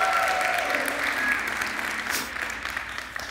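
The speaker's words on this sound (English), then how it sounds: "If you're gonna clap, clap, right?" An audience in a church-like gathering claps, a dense wash of applause that stays strong at first and gradually thins and fades over a few seconds.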